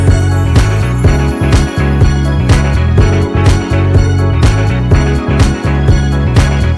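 A looping drum pattern of kicks, hi-hat and snares in a fixed groove plays alone over a repeating melodic bassline, steady and loud throughout with regular sharp hits.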